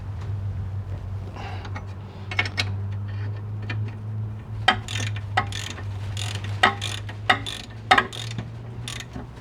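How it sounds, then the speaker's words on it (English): Steering bolts on a Mitsubishi 3000GT/GTO being tightened with a ratchet, giving a series of sharp clicks in short bursts, loudest in the second half, over a steady low hum of background noise. "And you're going to do these 2 bolts up really tight."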